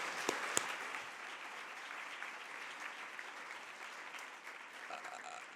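A forum audience claps for event sponsors, a sustained, even wash of applause with a couple of sharper claps near the start, moderately distant and alone.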